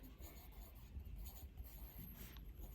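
Pencil scratching steadily across a paper worksheet in a classroom, a quiet continuous rubbing texture with faint room noise and no voices.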